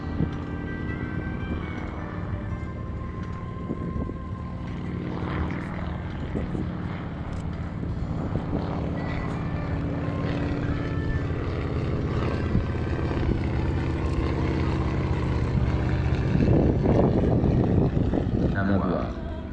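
A Morane-Saulnier MS-317 propeller training aircraft drones steadily throughout at the Cognac-Châteaubernard air base airshow, a continuous low hum that grows slightly louder toward the end, with faint voices underneath.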